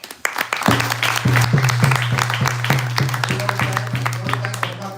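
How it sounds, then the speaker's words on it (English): Audience applause at a house program, dense clapping from many hands running steadily for several seconds, with a sustained musical drone tone underneath and a slight fade toward the end. "let's give a big round of applause"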